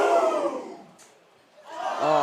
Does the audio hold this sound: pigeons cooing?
no